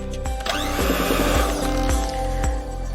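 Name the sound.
electric blender mixing croissant dough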